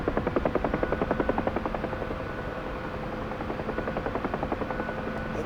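A Huey helicopter throttles up and flies out of an autorotation over snow, its rotor giving a fast, steady thudding beat over a continuous engine drone, close and sustained.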